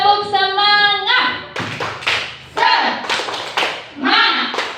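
Classroom group performs a rhythmic patterned clap, sharp clustered hand claps in a repeating beat, mixed with voices chanting along.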